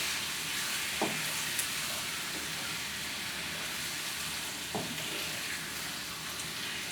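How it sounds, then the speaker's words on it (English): Shrimp sautéing with onions and garlic in a pan for shrimp fried rice: a loud, even hiss of frying fills the whole stretch, broken by a couple of sharp utensil clicks. "put your shrimp in there and let it kind of saute down with the onions and the garlic"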